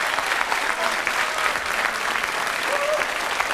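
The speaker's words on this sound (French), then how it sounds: "on peut applaudir très fort Anaïs et Erika" Audience applause for two contortionists at a televised show, a dense, steady wash of many hands clapping throughout, fairly close and unbroken, with no voices standing out above it.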